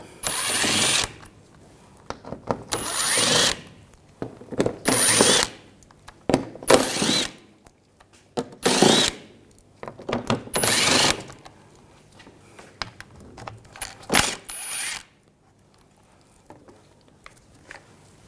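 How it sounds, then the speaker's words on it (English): An 8mm socket on a ratchet backs out the lower splash shield screws on a 2007-2013 BMW 328i, giving repeated bursts of loud ratcheting clicks separated by short pauses, then quieter handling at the end. "Using a 8mm socket, we're going to take all these screws out."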